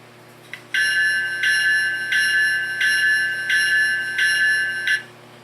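A bright electronic bell from an HO-scale ET44 GE Gevo locomotive's LokSound decoder rings steadily, about six or seven evenly spaced strikes, clear and close with no other sounds.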